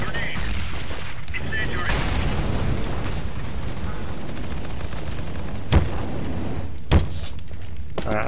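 Grenade blast and gunfire in the shooter game CS:GO, a continuous clatter of gunfire with two sharp, loud bursts late on, followed by quieter rumbling.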